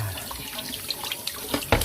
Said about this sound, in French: Je vais baisser un peu le robinet.